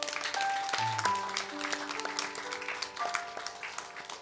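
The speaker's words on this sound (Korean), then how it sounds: "박수하겠습니다." Congregation applauding in a church service, a dense, steady patter of many hands clapping together, with sustained tones ringing underneath throughout.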